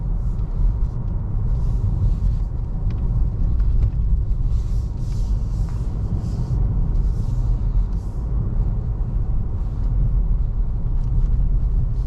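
A 2023 Honda Accord driving at about 30 mph along winding roads, heard from inside as a steady low road and engine rumble with light wind hiss, continuous and without talk.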